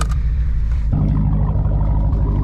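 A Hellcat-swapped Chrysler 300 revs hard while sliding, its loud, close engine roar deepening into a heavy low rumble after a brief higher burst, sustained throughout with no talk.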